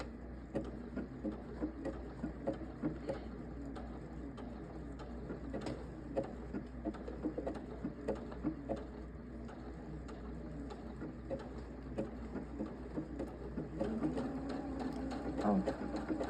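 A sewing machine runs continuously, stitching fabric with a decorative stitch on a beginner's first sewing project, a steady close mechanical whir and patter throughout with faint background noise.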